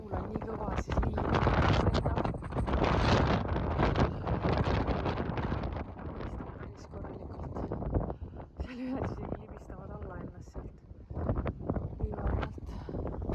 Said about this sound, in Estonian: kuna see tuul on nii kõva